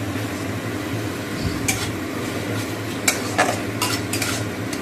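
Tomato hits cumin frying in a pan, giving a steady sizzle with a low hum beneath and a few sharp scraping stirs of a utensil against the pan.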